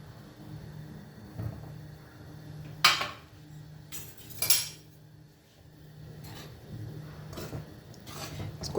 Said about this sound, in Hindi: इसको चलाते रहेंगे धीरे धीरे।